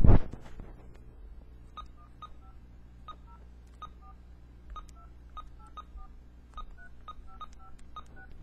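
Telephone keypad tones dialed one after another, about a dozen short evenly spaced beeps at moderate level over a quiet room, with no talking.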